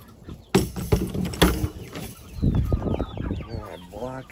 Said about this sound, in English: Now all the chickens are secured.